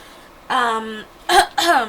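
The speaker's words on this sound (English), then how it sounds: "I'm sorry, I'm like burping up a storm" Person burping, several short voiced belches in quick succession, close and loud, with nothing else around them.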